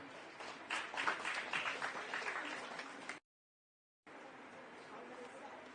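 Audience applause welcoming a school participant at a solar mission outreach event, steady broadband clapping for about three seconds, a brief gap of silence, then continued softer clapping.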